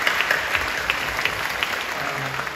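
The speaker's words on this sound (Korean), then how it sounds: "박수를 격려해 주시죠" A church congregation at Incheon Full Gospel Church claps in a steady, moderate wash, with a few sharper individual claps standing out and no voices over it.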